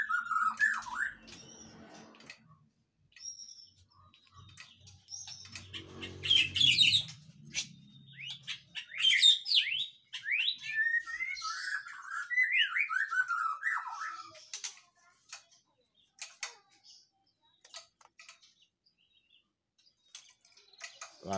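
White-rumped shamas sing at a bird shop in Tulungagung, with varied whistles, squawks and chirps coming in bursts with quiet gaps, fairly close.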